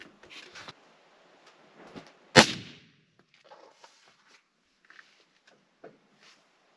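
A single suppressed AR-15 shot in 5.56 through an oversized 30 cal suppressor with a 6.5 end cap, a sharp loud crack with a short tail, followed by faint clicks and rustles outdoors.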